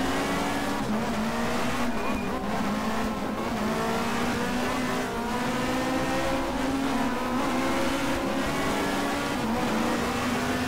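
A Toyota Carina touring race car in the GTR2 racing game, with the Touring Car World mod, roars at high revs with repeated gear shifts and occasional tire squeal, loud and continuous.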